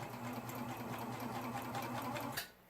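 A serger sews beads onto a t-shirt sleeve, its fast steady mechanical whir running continuously close up for over two seconds before cutting off abruptly near the end.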